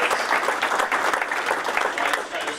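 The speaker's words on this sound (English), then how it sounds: "Give yourselves a round of applause." Dense, loud clapping from the audience at a Veterans Day event fills a short stretch. A crowd murmurs under the steady applause.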